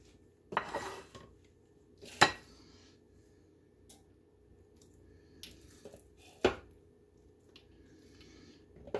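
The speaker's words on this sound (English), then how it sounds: "I'm going to place it in my baking dish" Pepper halves set into a baking dish in a home kitchen, giving a few sharp clinks and knocks of dish and utensil spaced apart against a quiet background.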